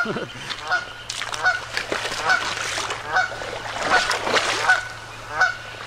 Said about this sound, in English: I just scared off a goose. She has a nest right there